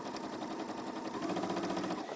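A Singer 9960 sewing machine runs a straight stitch, a fast even mechanical whirr with rapid regular needle pulses, close and continuous with no speech.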